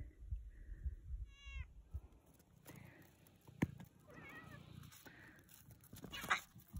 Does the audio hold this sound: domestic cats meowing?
yes